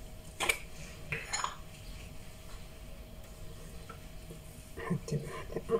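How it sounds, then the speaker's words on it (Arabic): A spoon stirs sauce in a pan while cooking beef fillet, with soft scraping, light metallic clinks and a faint sizzle under quiet background noise. "نقلب الصوص"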